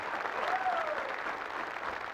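A studio audience at a television talk show claps for John Abraham in a short, continuous burst of moderately distant applause, with a faint voice under it.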